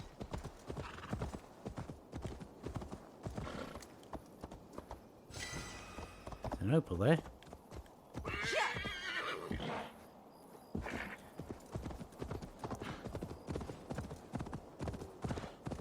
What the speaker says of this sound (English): My horse ran because of the snakes.